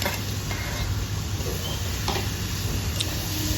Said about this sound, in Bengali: আমি একটু এতে তেল দিয়ে দিচ্ছি বন্ধু। ব্যাস, আবার একটু ভাজা ভাজা করে নিচ্ছি